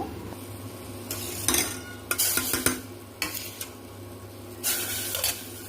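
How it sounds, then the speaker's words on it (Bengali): Fried semolina poured into milk in a pot and stirred, a soft simmering hiss under several bursts of spoon scraping and clinks against the metal pan, no one speaking. "সুজিটা আমার ভাজা হয়ে গেছে, এখন আমি এটা দুধে ঢেলে দিব।"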